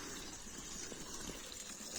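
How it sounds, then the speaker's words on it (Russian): Spring water gushes steadily into a container, a constant splashing rush heard close up with no talking. "Вот Мустафа ага набирает воду"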